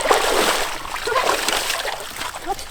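A dog bounding through a water obstacle at a dog sports competition, producing continuous sloshing and splashing up close, with a person's voice speaking faintly over it.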